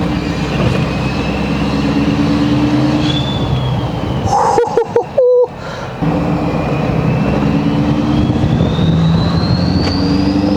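A big aftermarket turbo on a 6.7L Powerstroke diesel truck whistles, its pitch climbing as it spools over the engine drone, briefly broken by gear-change dips, then rising again as the truck pulls onto a highway.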